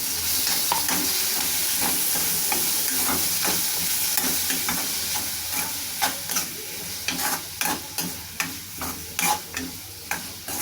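Tomatoes go into a frying pan of potato masala onion base, giving a steady close sizzle and frying hiss, then a run of sharp spoon-stirring scrapes and taps in the second half.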